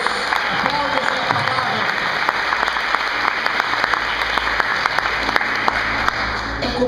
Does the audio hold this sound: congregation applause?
yes